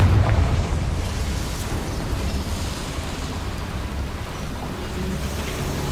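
A Confringo spell blast in Hogwarts Legacy inside a small mine: a loud burst at the start, then a sustained rumbling, crackling roar of debris and fire that holds steady for several seconds.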